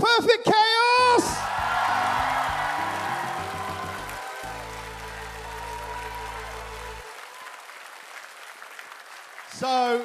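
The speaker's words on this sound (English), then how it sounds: "I want to hear a magnificent round of applause for Sally is Perfect Chaos!" At a Summer of Sonic 2016 cosplay contest, a crowd claps and cheers for several seconds beneath a bright electronic musical sting, with brief voices at the start and end.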